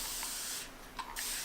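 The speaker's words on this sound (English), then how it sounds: "If you do not have a spray bottle" Spray bottle misting water for paint washes, a steady broad hiss with a few brief pumps, fairly close and loud with no one speaking.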